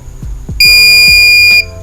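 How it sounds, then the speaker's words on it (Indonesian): An Arduino buzzer sounds once, triggered when a temperature sensor reads above 40 degrees: a loud, steady electronic tone lasting about a second, with a few soft clicks before it and no speech. "ketika suhu yang diberikan oleh sensor ini di atas 40, maka dia membuat buzzer ini menyala"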